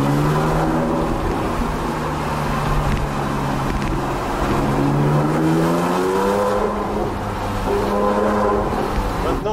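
A Porsche 997.2 fitted with a 9-EVO SCART valved exhaust accelerates through a small village, its steady, moderately loud engine note rising and falling in pitch, echoing off nearby houses with no talk.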